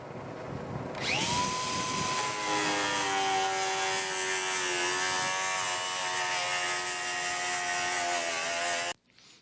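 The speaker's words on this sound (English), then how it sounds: "Here I'm cutting up the old, what's left of the old houseboat ceiling." A power tool starts up and whines loudly, its pitch wavering as it cuts through old fiberglass houseboat ceiling panels, then cuts off abruptly near the end.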